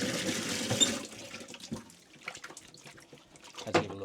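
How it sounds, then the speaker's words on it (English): Water splashes and rushes into a mop bucket as it is rinsed out, loudest in a burst at the start, then thinning to scattered sloshes and drips before a final splash. "Basically give it a nice little rinse off"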